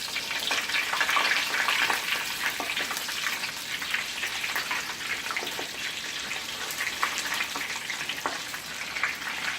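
Cheese sticks fry in 350-degree oil with a dense, steady crackling sizzle that stays loud and close for nearly ten seconds, with no pauses.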